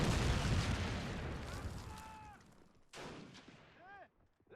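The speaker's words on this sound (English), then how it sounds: "Taking shots from the BA-11 over here." Gunfire from a BA-11 in the war game Army Men Battle Simulator, a dense, rumbling barrage of shots and blasts that fades, then a fresh burst near the three-second mark with whistling tones trailing off.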